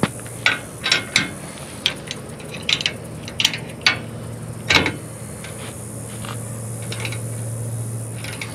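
Ratchet wrench with a deep socket working a bolt on a John Deere during a Rock Block install, giving short bursts of quick clicking pawl ticks close up, then a steady mechanical hum.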